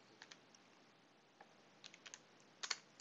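A value being typed on a computer keyboard, with sparse, light key clicks scattered irregularly, ending in a quick cluster of several taps, close and quiet with no talking.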